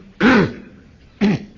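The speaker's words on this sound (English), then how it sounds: "I have a little cough because I've just been to London and picked up the London flu" A man clears his throat twice, two short rasping coughs about a second apart, close and loud against a quiet background; he has a slight cough from flu.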